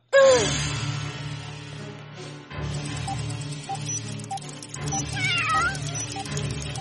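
A cartoon kitten meows in several drawn-out, wavering cries, loud and close, with musical score and effects underneath and no speech.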